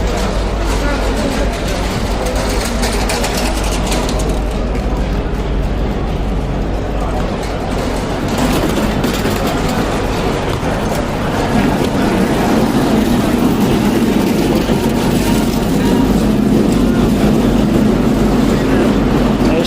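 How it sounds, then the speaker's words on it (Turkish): Carts and vehicles at a crowded market in Medina, a dense, continuous rumble of engines and wheels with people talking throughout. "arabalar, seyyar arabalar fazla gürültü yapıyorlar."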